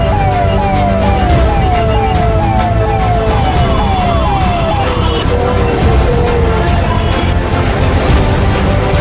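Loud wailing emergency sirens from fire service trucks and ambulances at a disaster management mock drill in west Delhi, the repeated rising-falling sweeps sounding close over constant engine and street noise.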